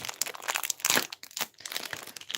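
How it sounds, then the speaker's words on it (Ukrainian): A plastic packet crinkles and rustles up close in a few quick bursts as it is pulled open. "Далі у нас йде ось такий пакетик. Відкриваємо."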